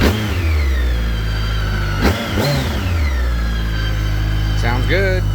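A 2010 BMW K1300GT motorcycle engine idles steadily after a cold start, a loud low hum with a couple of brief throttle blips, while a voice speaks faintly over it near the end.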